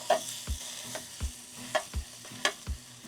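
Sausage frying in a 4-quart cast iron Dutch oven on a Big Green Egg grill at 350 degrees, broken up with steady scraping strokes about every half second over a soft sizzle, close by with no talking.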